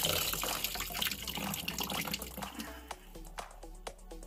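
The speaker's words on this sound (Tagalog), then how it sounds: "init tubig sa gripo." Hot water runs steadily from a tap, a broad hissing splash with a few clinks and knocks near the end.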